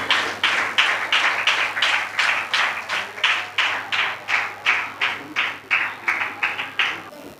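A church congregation at a Sunday service claps in a slow, steady unison rhythm, around twenty loud, evenly spaced claps in a row.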